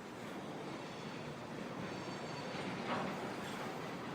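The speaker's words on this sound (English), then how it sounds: "Can you hear the train going by?" A train rolls past on a railroad track in Nashville, Tennessee, heard as a steady, fairly distant broadband rumble with faint wheel hiss, holding even throughout and swelling slightly near the end, with no talking.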